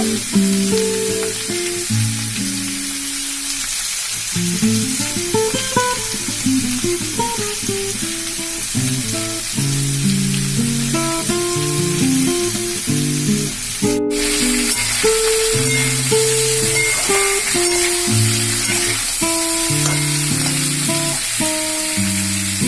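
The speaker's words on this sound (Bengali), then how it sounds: "পেঁপেগুলোকে একটু লাল লাল করে ভেজে নেব" Papaya pieces fry in a pan for a vegetarian papaya curry, giving a loud, continuous sizzle and hiss close by, with background music running throughout and no speech.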